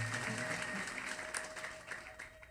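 A church congregation claps together for the Lord during a prophetic service, a dense, fairly faint patter of applause running steadily for a couple of seconds.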